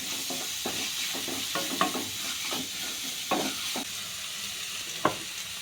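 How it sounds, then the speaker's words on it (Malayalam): Prawns sauté with ginger garlic paste in a pan, a soft continuous sizzle with repeated scraping strokes of a spoon stirring, one sharper knock near the end. "ഇഞ്ചി വെളുത്തുള്ളി പേസ്റ്റ് എല്ലാം കൂടി ചേർത്തതിന് ശേഷം നന്നായിട്ട് ഒന്ന് വഴറ്റി എടുക്കണം"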